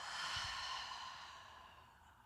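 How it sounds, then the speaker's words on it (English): A slow, deep exhale during a yoga relaxation, soft and close, a breathy release that fades gradually over about two seconds with no talking. "and exhale"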